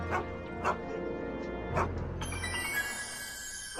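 Einstein the dog from the Back to the Future video game barks in a few sharp yelps and yips, spaced about a second apart, over a steady droning game background that turns brighter and busier toward the end.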